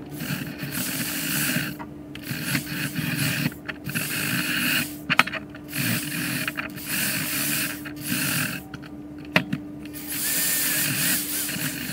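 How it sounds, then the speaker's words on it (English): Power drill with an attachment cleaning engine valves, a loud continuous whirring and grinding that pulses in bursts with brief stops between, close up. "Starting to use this guy on the drill"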